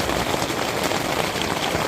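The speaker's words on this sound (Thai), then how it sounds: "ตอนนี้คือฝนตกหนักมาก" Heavy rain pounds on a tent roof at a cold campsite, making a dense, steady hiss of big drops with no pauses or voices.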